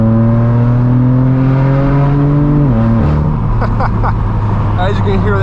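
A BMW M4 F82 with a straight-piped exhaust drones loudly and steadily nearby, its pitch dropping as it shifts, with a deep exhaust rumble throughout.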